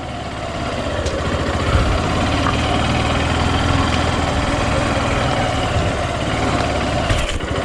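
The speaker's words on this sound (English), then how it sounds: "I'm pulling Honda Shine to its maximum." A Honda Shine motorcycle revs hard in first gear while riding off-road near Yellapur and Anshi National Park, its engine a loud, close, steady drone that holds for several seconds.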